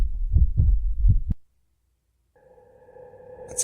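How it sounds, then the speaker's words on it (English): Stock heartbeat sound effect from a paranormal sound pack: four deep, loud thumps in a steady rhythm, then silence, then a faint sustained electronic tone rising at the end. "That's clearly a heartbeat."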